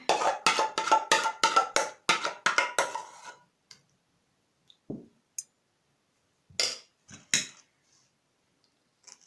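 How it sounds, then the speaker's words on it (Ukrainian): Butter and sugar creamed together with scalded milk, mixed by hand with a utensil in a bowl: a fast run of sharp scraping clicks, then sparse isolated taps and scrapes separated by quiet gaps. "От Тепер вже будемо змішувати наш крем разом."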